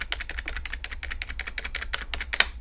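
Rapid repeated tapping on the 1 key of a wired keyboard connected to a Realme C67 phone, a quick run of crisp plastic clicks about four per second, ending in a sharper final tap.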